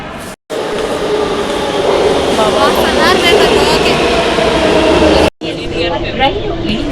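A metro train carrying passengers, with a steady loud rumble and rail hum inside the carriage, briefly cutting out twice. A voice talks over the noise.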